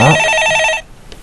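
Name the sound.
telephone ringing on a call-in show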